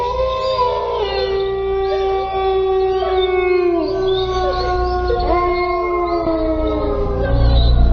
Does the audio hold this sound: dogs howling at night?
yes